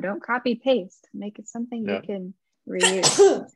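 A single sharp sneeze bursts out near the end, following a stretch of someone speaking.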